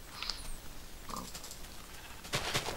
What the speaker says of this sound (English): Move, stupid pig family that's not in the fence